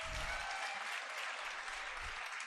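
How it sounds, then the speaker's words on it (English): Quiet, steady applause from a conference audience after a physical education and sports performance, an even wash of clapping with a faint tone in the background. "I think this performance deserves a round of applause"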